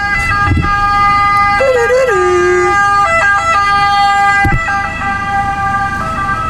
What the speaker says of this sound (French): il y a une putain d'ambulance